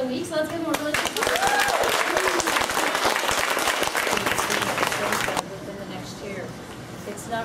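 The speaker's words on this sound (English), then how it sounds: "So let's give them a really big applause." Loud, dense applause from a crowd celebrating the week 7 team of the week winners, the Scotia girls, with cheering voices mixed in; it runs steadily for about five seconds, then drops to a quieter continuing clap.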